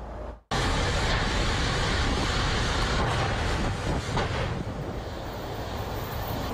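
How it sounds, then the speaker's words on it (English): A storage facility fire with propane cylinders exploding gives a loud, continuous roaring blast that starts abruptly after a brief silence and rumbles on steadily with no voices. "That's the sound of propane cylinders exploding as fire spreads through and destroys a storage facility"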